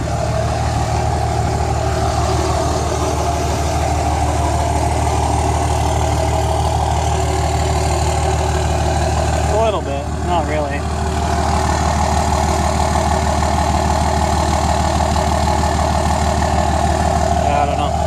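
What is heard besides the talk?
Cummins diesel engine idling in single cab truck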